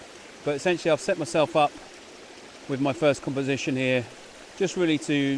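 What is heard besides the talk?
flowing stream water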